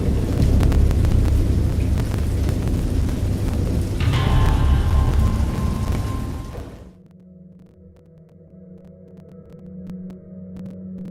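A violent thunderstorm roars with heavy rain and deep rolling thunder for several seconds, then cuts off abruptly into a quieter low hum with faint scattered rumbles.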